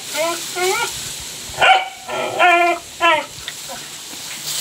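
Several dogs bark and yip in short bursts close by, with some whimpering between barks and a person's voice faintly mixed in.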